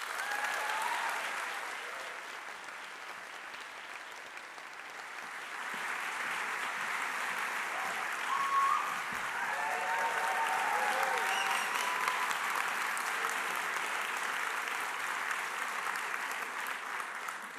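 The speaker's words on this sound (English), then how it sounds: "A big round of applause for Daan van der Heijden." An audience applauds the pilot at a design presentation for an exoskeleton project, sustained clapping that swells midway and holds steady for over fifteen seconds, moderately distant and unbroken by talk.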